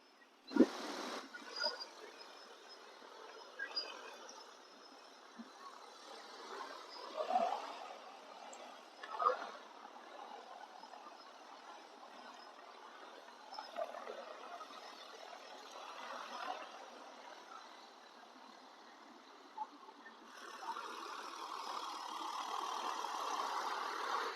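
An agricultural spraying drone circling over a rice field gives a steady, moderately distant motor hum that rises slightly toward the end, with no talking.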